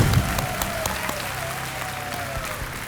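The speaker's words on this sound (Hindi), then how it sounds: "तालियां बज जाए" Studio audience applauding on a TV quiz show, a dense even wash of clapping at moderate volume that sustains throughout, with a faint tone gliding beneath it.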